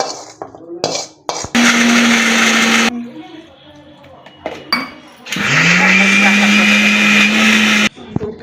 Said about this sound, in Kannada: ಮಿಕ್ಸಿಗೆ ಹಾಕೊಳ್ಳೋಣ, ರುಬ್ಕೊಳ್ಳೋಣ, ಚಟ್ನಿ ಮಾಡ್ಕೊಳ್ಳೋಣ.